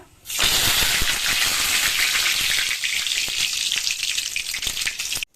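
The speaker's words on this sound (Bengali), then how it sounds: "দিয়ে দিচ্ছি সর্ষে ফোড়ন, কারি পাতা" Mustard seeds and curry leaves hit hot oil in a pan for a masala dosa filling, bursting into a loud steady sizzle with scattered popping crackles that holds for several seconds before stopping abruptly.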